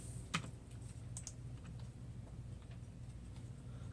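Soft, irregular keystrokes on a computer keyboard in a therapy office, fairly faint with a few sharper clicks, no talking.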